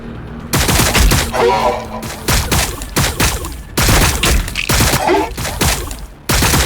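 A Warhammer 40,000: Battlesector cutscene battle roars with dense, loud volleys of automatic gunfire and heavy impacts, broken by a few brief pauses, with occasional shouted voices mixed into the din.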